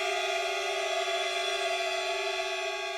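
A shrill, sustained high squeal from a beginner's clarinet or saxophone mouthpiece, steady and unbroken for the whole stretch, with stacked piercing overtones and no talking.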